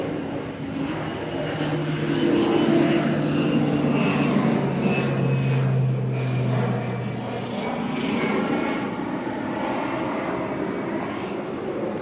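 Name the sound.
crop duster airplane flying over fields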